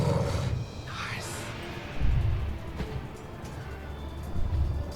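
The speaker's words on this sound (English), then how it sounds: "Yeti combat roars. Roar!" Deep, growling creature roars of a yeti in a Dungeons & Dragons battle soundset, surging in several loud bursts over a rumbling combat bed.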